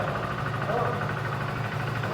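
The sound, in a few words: Hero Splendor Plus Xtec motorcycle engine idling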